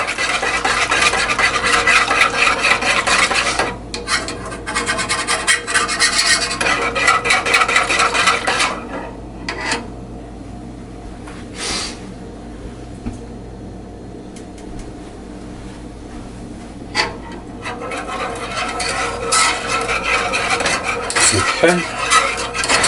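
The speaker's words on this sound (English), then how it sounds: "I'm gonna whisk it. I want to keep this moving so the mixture doesn't burn in the pan." A whisk scrapes and clinks steadily around a pan of hot chocolate mixture, a busy metallic stirring rhythm that eases into a quieter patch midway before picking up again, with no talking.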